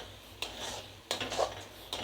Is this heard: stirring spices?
yes